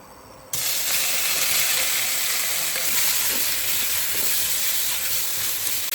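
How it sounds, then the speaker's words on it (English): Marinated beef hits a very hot pan greased with beef tallow and bursts into a sudden loud sizzle that stays dense and steady as it is stir fried. "And stir fry."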